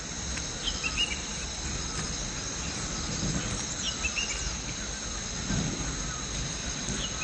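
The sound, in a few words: crickets chirping with birds calling on a hill morning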